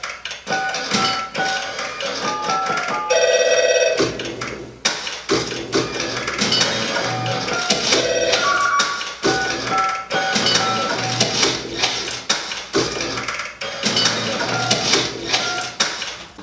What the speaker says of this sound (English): there's a bit of a percussive track that I created from office sounds